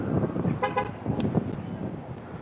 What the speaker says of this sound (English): Guy behind me keeps on chirping his car.